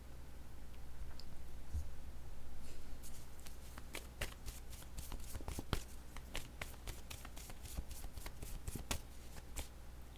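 Playing cards being shuffled and drawn, a soft riffle followed by a rapid run of crisp, closely spaced card flicks and snaps, near and fairly quiet.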